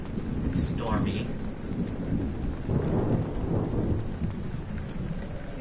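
A thunderstorm in the video game Amnesia: steady, dense rain and wind with low thunder rumbling through the whole stretch, with a brief swell of thunder around the middle.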